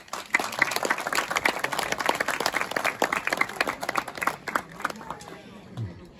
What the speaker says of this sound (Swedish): En varm applåd nu till Anders Mattsson